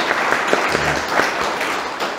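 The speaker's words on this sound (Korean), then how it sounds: "한번 박수 한번 해주시기 바랍니다" An audience in a church gives brief applause, a short dense patter of clapping that carries on steadily and close by.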